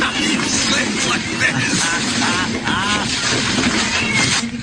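Numerous cats in a cluttered hoarder's house meow repeatedly and overlap, their cries rising above a busy background of shuffling and voices.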